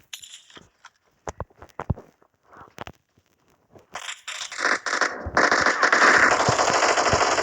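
An Uzi submachine gun fires in a video game in a dense, loud burst of rapid automatic shots that builds in the second half, after scattered sparse clicks and thuds, with no talk over it.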